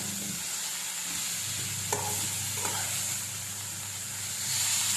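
Steady sizzling and hiss from a hot pan of frying chaya (tree spinach) leaves, with a few clinks and scrapes of a utensil stirring, close and continuous.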